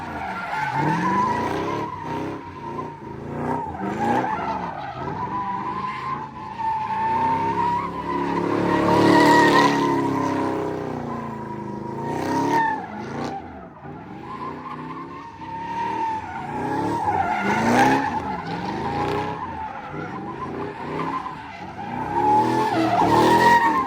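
Tires squeal and skid continuously as a Camaro slides, with a wavering high-pitched screech over revving engine noise rising and falling across the run, loud and close.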